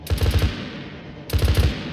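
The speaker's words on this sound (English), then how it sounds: "How effective is your fire from this range with the cannon?" Cannon fire in the video game Arma 3 comes as two loud rapid bursts of thudding shots, each lasting under half a second, separated by a short pause, with no talk.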